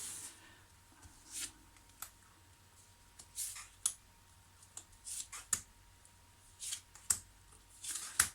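Cards for a reading are shuffled and laid out close by, with short papery riffles and swishes, sharp snaps as cards land, and brief rubbing sounds in an irregular rhythm.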